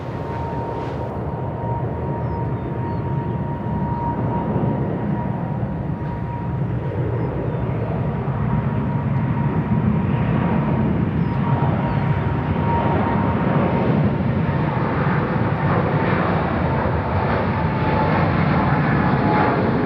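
A Thai Boeing 777-300ER jet at Bangkok Suvarnabhumi Airport throttles up for takeoff. Its engine roar is loud and steady, with a thin whine running through it and a rumble that swells over twenty seconds.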